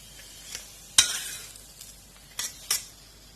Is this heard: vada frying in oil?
yes